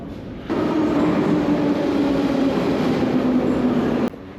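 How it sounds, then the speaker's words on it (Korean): Tashkent metro subway train rumbling past, a loud, steady roar with a faint squealing whine, close by and without speech, cutting off abruptly near the end. "지금 지하철 타러 나왔어요"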